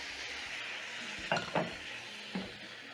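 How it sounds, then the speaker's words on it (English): Butter sizzles softly in a crepe pan, a low steady hiss broken by a few short scraping or clinking touches of a utensil against the pan. "So I'm going to add in the butter in the pan."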